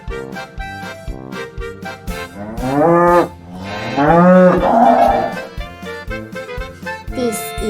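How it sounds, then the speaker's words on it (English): A cow gives two long, loud, drawn-out moos up close, the second deeper and longer, over a steady, rhythmic background music beat. "This is a cow,"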